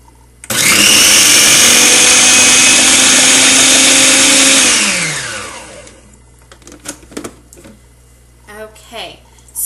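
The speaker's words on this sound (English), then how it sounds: "I'm just going to blend it until it's all nice and creamy" A blender whirs loudly and steadily for about four seconds while blending a pink lemonade parfait mixture until creamy, then spins down to a stop before light clatter.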